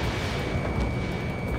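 An aircraft blows up in the Ace Combat 7 video game: a dense, rumbling explosion roars steadily across the whole brief moment, loud and close with no voices over it.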